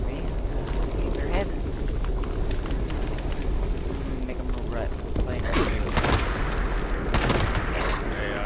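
Gunfire in Fallout 76 Nuclear Winter: several sharp shots crack over a dense, noisy game background, two louder ones standing out toward the end, with players talking throughout.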